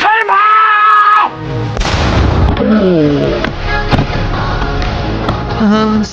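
Cannon blasts fired in a side-scrolling video game, loud booming bursts that recur over several seconds amid busy game sound effects and music.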